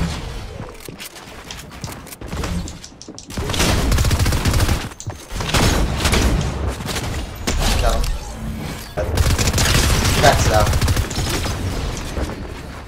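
Video game gunfire in heavy bursts and sustained volleys, loud and dense, with excited players talking over the shooting.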